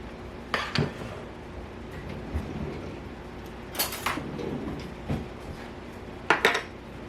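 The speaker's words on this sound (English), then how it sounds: "And then you add in your ground beef, 1 pound." Raw ground beef, one pound, goes into the pot of a Farberware electric pressure cooker, with a few sharp clanks of a utensil against the metal at scattered moments over low kitchen background.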